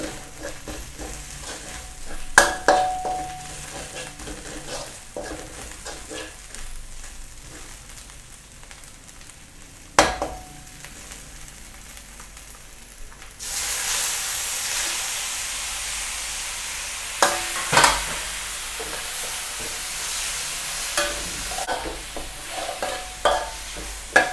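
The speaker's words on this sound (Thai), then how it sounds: "ตามด้วยหอยเชลเลย ให้เราเร่งไฟขึ้นมาเป็นไฟแรงนะครับ" Scallops being stir-fried over high heat, with intermittent spatula scrapes and clanks against the pan, then a sudden louder, steady hissing sizzle that swells midway and continues with more stirring knocks.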